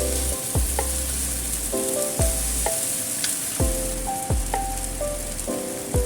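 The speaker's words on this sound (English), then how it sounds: "Then do a little bit stir fry. Mix everything well." Chicken chow mein with oyster sauce stir-fried in a hot pan: a continuous close sizzle overlaid with a series of sharp, regular metallic scrapes and clacks from the utensil, no voices.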